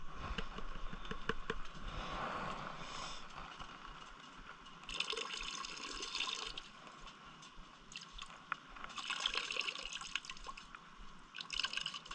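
Water trickles and splashes in a pan of paydirt being worked for gold in Thailand, with small drips and sloshing pours coming and going, close and fairly quiet.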